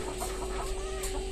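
Hill-breed chickens recovering from illness cluck softly in a flock, low murmuring calls close by over a steady background hum, with no talking.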